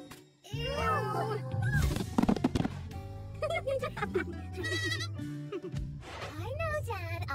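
Bleating goats in an animated Barbie summer cartoon, several wavering calls rising over a steady background hum, with cartoon voices talking between and over them.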